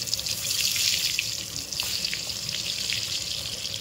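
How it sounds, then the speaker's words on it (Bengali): Eggplant slices frying in hot oil in a home kitchen, giving a steady, dense sizzle and crackle that holds for the whole stretch without any talk. "এবার আমরা কালো কালো বেগুনগুলো ছেড়ে ভেজে লটপটে লাগিয়ে দেবো তেলের মধ্যে"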